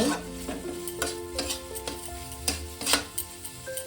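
Spice paste with a little sugar fries for papaya kaliya curry, a dense continuous sizzle with rhythmic scraping strokes of stirring in the pan, close and fairly loud without talk.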